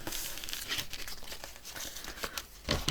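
A short strip of washi tape crinkles and rips with soft paper rustling, then a sharper tear near the end, close and fairly quiet, while it is applied to a handmade tunnel journal page. No one speaks.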